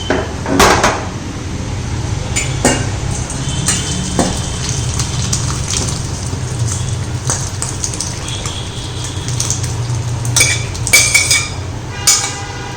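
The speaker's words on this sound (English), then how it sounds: "Now let's open and put it in a colander and strain it." A pressure cooker being opened and vegetable soup strained through a colander, with metallic clinks and clatters of pots and utensils, the sound of liquid running, and scattered knocks that cluster more densely toward the end.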